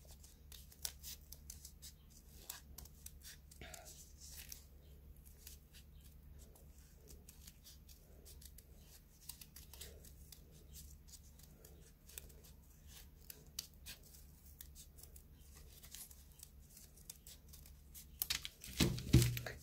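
Scissors snipping through folded paper, a long run of quiet, rapid cuts and crisp snips close by, ending in louder rustling and handling of the paper.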